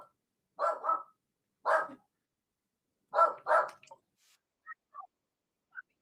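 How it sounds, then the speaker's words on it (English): A dog barks in short bursts, two quick double barks and a single bark, fairly close and clear, followed by a few faint high whimpers, with no talking. "Terrible dog."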